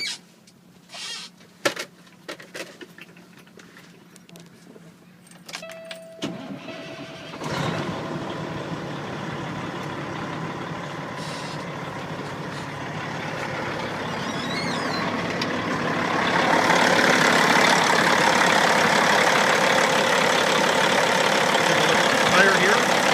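A 2007 Peterbilt 386 truck engine cranks and catches after a few seconds of quiet clicks and knocks, then settles into a steady diesel idle that gets louder and rougher toward the end, heard up close.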